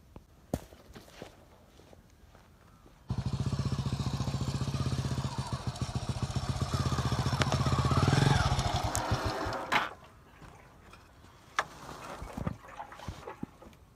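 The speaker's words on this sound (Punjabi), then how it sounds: "ਮੋਟਰਸਾਈਕਲ ਤਾਂ ਜ਼ਰੂਰ ਲੈ ਕੇ ਆ ਗਏ" A cold Hero Splendor motorcycle, left parked outdoors overnight on a chilly morning, idles steadily for about seven seconds with a slight rise in revs before cutting off, framed by soft footsteps and shuffling before and after.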